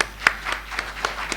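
Scattered audience applause for a panel at a forum session, a handful of distinct, fairly faint claps at uneven intervals in a quiet hall.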